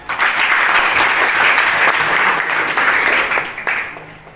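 A school audience at a government high school function claps together in a dense burst of applause that swells, holds for several seconds, then tapers off near the end.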